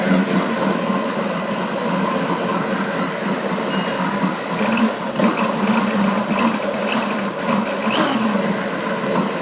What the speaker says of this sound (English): you turn the blender on again.